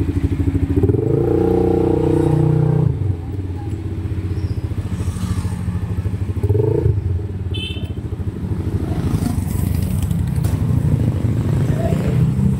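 A 500cc ATV engine running during a test drive, a loud close rumble whose pitch rises and falls as it revs, with clattering bits and a brief faint voice partway through.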